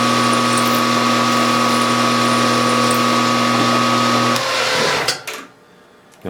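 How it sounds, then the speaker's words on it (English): A power drill runs at a steady pitch while drilling through a rod, loud and close, then slows and winds down to near silence with a brief clatter at the end. "the drill's drilling like a half now because I'm through the top."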